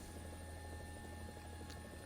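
Helicopter in the War Thunder video game, a steady low rotor thrum with a constant engine whine, faint and unbroken.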